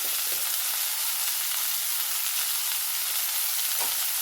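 Washed chicken pieces with turmeric frying in a kadai, a loud continuous close sizzle with a couple of faint stir knocks and no voices.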